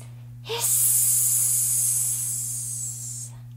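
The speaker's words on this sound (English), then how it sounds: "secretly slithered a huge stripy snake" A long, loud hiss from a big striped snake for a storybook scene, starting abruptly and holding steady for about three seconds before cutting off, heard alone over a low background hum.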